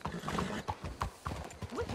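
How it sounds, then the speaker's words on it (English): Horse hooves clip-clopping in Red Dead Redemption 2, a steady walking rhythm of close, muted hoof strikes with faint snorts and tack jingle. "Let's hitch the horses up ahead."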